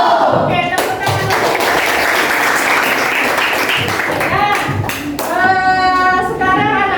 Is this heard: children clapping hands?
yes